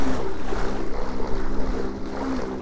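Outboard motor on a fishing boat, run with the motor trimmed shallow, a steady rumbling drone with wind buffeting and water wash over it, continuous and close, no voices.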